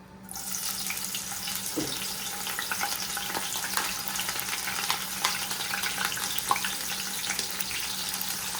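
A salt mackerel mixture hits heated oil in a pot, giving a steady hissing sizzle with scattered crackles and occasional stirring clinks, close up and moderately quiet throughout.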